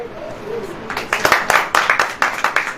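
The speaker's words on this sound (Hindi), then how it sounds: "ताली बजाओ।" A church congregation breaks into hand clapping after a pause, the claps coming fast and loud in an uneven rhythm for about two seconds.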